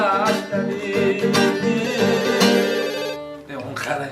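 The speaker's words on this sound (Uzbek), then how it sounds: "kimdir telefon qilib o'tiribdi" A telephone rings with a melodic ringtone that plays steadily and fairly loud for about three seconds, pauses briefly, then starts again.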